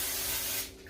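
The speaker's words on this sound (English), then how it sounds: "I need to also remember to spray the lid too." Oil sprayed onto the lid of a Pullman bread pan, a single close, steady hiss lasting just over half a second before cutting off.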